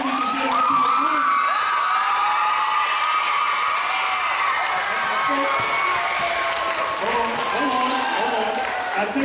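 A school crowd at an academic charter school applauds and cheers for jazz musician Mr. Harper, with sustained clapping, high children's shouts and whoops rising over the din, and excited voices throughout.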